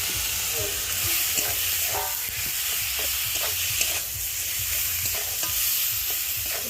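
Chicken rubbed with salt and turmeric being sautéed in oil in a kadai, a continuous soft sizzle with scraping stirs and occasional clinks of a spatula, close and fairly quiet, no talking.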